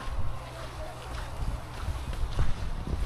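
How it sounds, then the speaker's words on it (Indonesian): Strong gusting wind on the descent from the Kawah Ijen summit, a loud rumbling buffet against the microphone that rises and falls throughout, with someone talking over it. "Cuma anginnya besar nih. Anginnya masih kencang ya."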